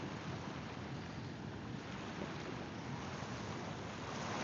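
Broadband wash of ocean waves and wind around a boat, steady and unbroken throughout, close and full with heavy wind noise on the microphone and no talk.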